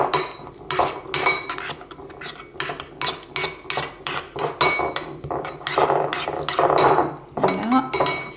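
A utensil stirs and scrapes tartare sauce in a bowl, giving repeated close clinks and scraping taps in an uneven rhythm that grows busier toward the end, with no talking.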